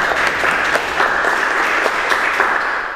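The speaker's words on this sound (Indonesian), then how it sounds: "Tepuk tangan untuk kita semua ya." A class of students claps together during a lesson, loud and close, a sustained crackle of many hands that fades slightly at the very end.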